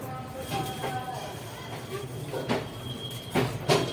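A train running near Samastipur railway station in India rumbles steadily with rail hiss and occasional clanks, a continuous mid-distance rolling noise.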